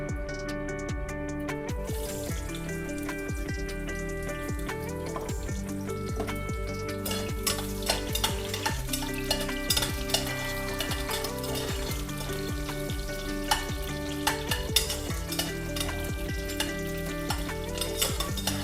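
Cinnamon, cloves and onion frying in a pan for tomato bath, a steady close sizzle with occasional stirring clatter, set against a faint tonal background.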